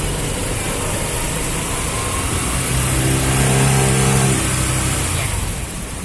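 A 2022 Honda Click 150i Black Gold scooter idles close by with a steady low engine hum that swells slightly midway, then eases off near the end as the idling stop is checked.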